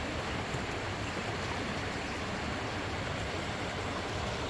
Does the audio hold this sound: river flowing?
yes